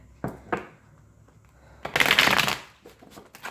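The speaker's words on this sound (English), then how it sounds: "One last shuffle for the collective." A deck of playing cards being shuffled during a card reading, with a few soft flicks and taps and then a loud, dense riffle lasting about half a second, near and clear with no talking.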